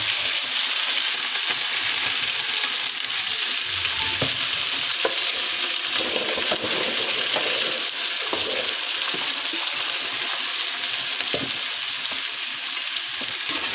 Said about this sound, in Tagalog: Lagay na po natin tong balunan at saka atay.